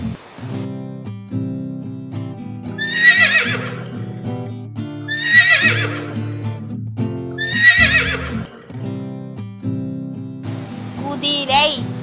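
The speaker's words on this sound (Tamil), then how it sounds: "குதிரை." A horse neighs three times in a row in a children's animal-name lesson, each loud whinny spaced a couple of seconds apart over a music backing, with a voice naming the animal afterwards.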